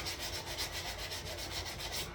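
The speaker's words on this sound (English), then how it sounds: "do some finish sanding instead of doing it by hand" Steady rhythmic rubbing of a sanding mop against a wooden Easter Island sculpture, a continuous abrasive whir pulsing several times a second, close and fairly quiet.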